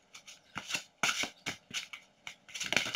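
Oracle cards being shuffled by hand, a series of quick crisp riffling bursts close to the microphone, each lasting a fraction of a second with short pauses between, in a quiet room.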